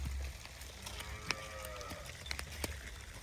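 A cow lows faintly at a distance, one drawn-out moo amid quiet outdoor background noise and a few soft knocks.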